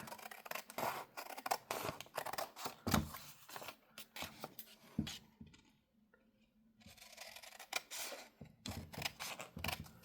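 Scissors cutting paper for a junk journal made with gel prints, with repeated crisp snips and rustles close by, then a short quiet pause before the cutting starts again.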